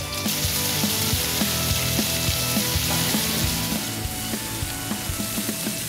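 Sausages brown in a pot, sizzling loudly and steadily with dense crackle and scattered pops and occasional stirring knocks, close up and without speech.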